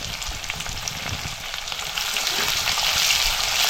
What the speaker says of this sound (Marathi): त्यानंतर कांदा टाकूया, कांदा असा उभा पातळ कापून घेतलाय.